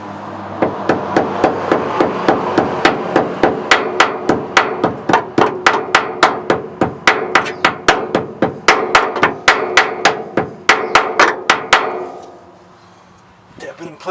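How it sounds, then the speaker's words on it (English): Steady series of sharp metallic hammer blows tapping a shock absorber into place on a 2000 Ford F-250, roughly two per second, loud and close, ending with a quiet pause and a couple of faint knocks. "So, I'll use the hammer again."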